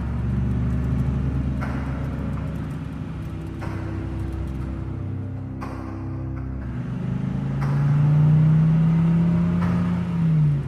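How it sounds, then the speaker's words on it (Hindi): A jeep and a motorbike drive on a rough jungle road, a loud, close, continuous engine rumble and whir that swells into a stronger revving drone toward the end. "आलोक भी अपनी जीप को लेकर बाबा के बाइक के पीछे पीछे चला जाता है।"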